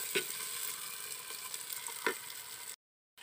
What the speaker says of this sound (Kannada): ನೀರುಳ್ಳಿ ಟೊಮೆಟೊ ಕಾಯಿ ಮುಂಚಿ ಮುರ್ದಿತ್ತೀನಿ ಪಾಡೊಂದ ಲಾಯ್ಕ್ ಫ್ರೈ ಆವಡೊಂದು ಎಣ್ಣೆಡು